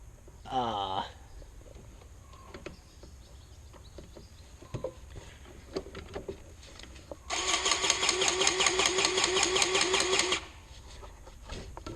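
A DeWalt battery-powered grease gun runs with a new tube of grease fitted, giving a steady mechanical whirring pump for about three seconds, close by, after some quieter handling clicks.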